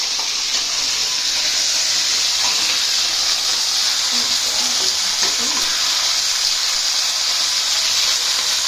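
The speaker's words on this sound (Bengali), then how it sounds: "আর চিকেনটাকে আমি ঘিয়ের মধ্যে একটু ফ্রাই করে দিচ্ছি" A whole chicken fries in ghee with a loud, continuous sizzle and hiss, broken by occasional stirring and scraping, up close with nobody speaking.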